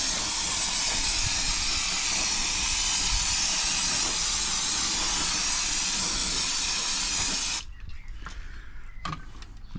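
Brake cleaner aerosol sprayed onto a Royal Enfield Classic 350 motorcycle's DNA air filter, a loud, steady, close hiss lasting several seconds before it cuts off abruptly, leaving faint handling sounds.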